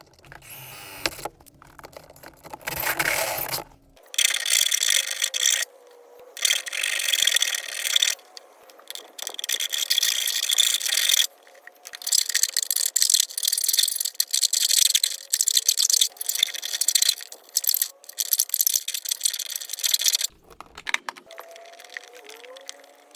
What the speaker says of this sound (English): So I'll just hole saw a hole, and this fits in the firewall for a connection point.